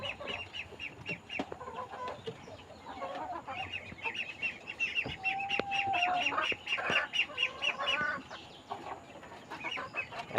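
Farmyard chickens clucking in a repeated, scattered chatter, fairly quiet and close, with a brief higher call midway and a few light knocks in the background.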